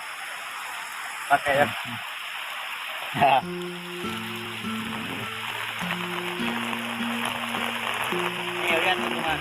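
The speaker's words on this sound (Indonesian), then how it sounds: "Ini hujan ya tuh." Steady, dense rain pours down during a camping trip in a stormy downpour, a constant hiss throughout with people talking and a melodic tone over the rain.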